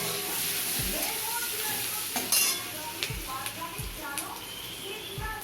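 Chopped onion sizzles and fries in a pan for mustard pomfret, with a steady hiss broken by several scraping stirs and clinks of a utensil against the pan.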